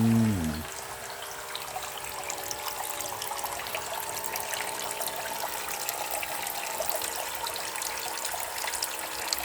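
Water swirling and trickling steadily in a fish tank's vortex circulation system, a continuous close gurgling flow that runs unbroken, opening with a brief louder low rumble.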